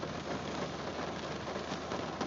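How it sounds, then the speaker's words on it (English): Steady rain patters densely on a car windshield, a constant close hiss without pauses or voices. "You probably can't see that through all the rain on my windshield"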